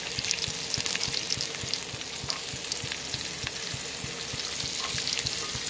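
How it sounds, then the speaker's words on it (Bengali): Onions fry in a pan of hot oil that already holds fried noodles. A steady, close sizzle runs throughout, with fast rhythmic clicks of stirring underneath and no talk. "পিঁয়াজখানে মই অল্প ভাজি লম।"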